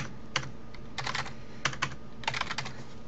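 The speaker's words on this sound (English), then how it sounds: "I'm going to type in Test 5." Someone types on a computer keyboard in short bursts of quick, close keystrokes, separated by brief pauses.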